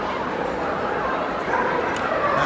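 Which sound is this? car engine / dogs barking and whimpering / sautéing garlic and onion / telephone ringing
dogs barking and whimpering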